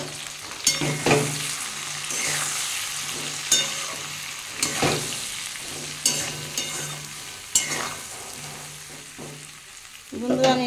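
Chopped eggplant with turmeric and salt fried and stirred in a pan, a steady close sizzle broken by repeated scraping strokes of a spatula at irregular intervals.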